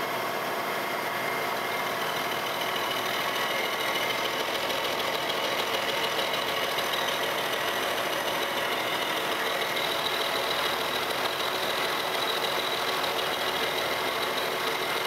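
A Monarch lathe feeding a cut across a newly made gib gives a steady, continuous machining drone with a faint hiss, constant in level throughout and free of speech.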